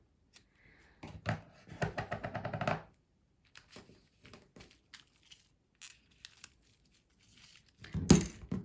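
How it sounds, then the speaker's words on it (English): Red liner tape being peeled and torn by hand while making a shaker card, a fast ripping burst early on, then scattered small crinkles and taps, and a sharper tear near the end, close and fairly quiet. "I am going to take some of the red liner tape"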